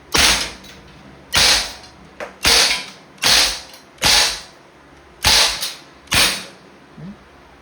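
A Umarex Beretta PX4 Storm Dual Ammo airgun fires lead pellets: seven sharp, loud shots close by, spaced roughly a second apart, each with a brief metallic ring, and no talking.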